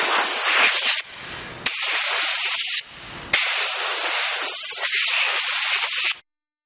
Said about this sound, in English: use a compressed air gun and blow off any powder off